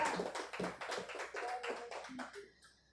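Church congregation at a missions service clapping in a steady, brisk rhythm, a run of even hand claps that trails off and fades at the end.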